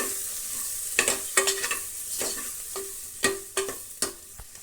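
Masala powder and chilli powder stirred in a hot pan, with repeated scraping strokes of a spoon over a soft sizzle, close and clear with no voices.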